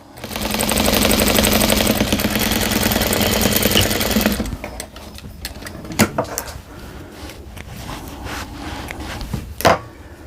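Sewing machine running a straight stitch at 2.5 stitch length with a quarter-inch seam on a receiving blanket, a steady dense whirring for about four seconds that then stops, followed by faint handling clicks and rustles.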